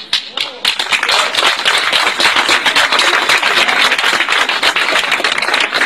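Students in a school canteen applaud, with rapid, crowded clapping that holds steady and close throughout while voices mingle underneath.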